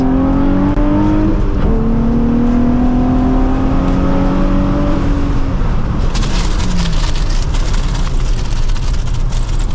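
Nissan 350Z engine revving and held around 4,000 RPM while driving, a loud steady drone with rising harmonics that fades into rougher road and engine noise, heard from inside the car without talk.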